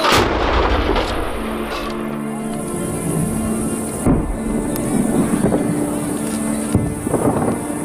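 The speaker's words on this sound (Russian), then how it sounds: "ونقوم بتنفيذ صليات نارية عليها" Syrian army artillery salvos pounding Kafr Nabudah during the May 2019 battle: repeated heavy booms and rumbling blasts over a steady background drone with insect-like chirring, no talk.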